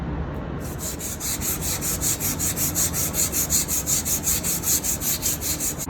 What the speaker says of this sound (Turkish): Zımparayla başlıyoruz o zaman.